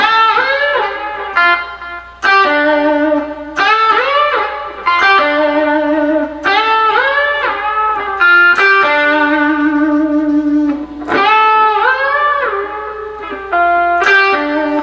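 Fast electric guitar lick played with fingers instead of a slide, a quick run of bending, sliding phrases repeated several times with light effects and reverb, loud and close with no talking.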